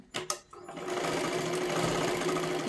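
An electric sewing machine stitches silky fabric for a katori blouse. A couple of short taps come first, then the machine speeds into a steady, close, whirring hum.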